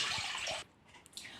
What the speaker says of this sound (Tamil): 3 கிளாஸ் தண்ணி விடுறேன்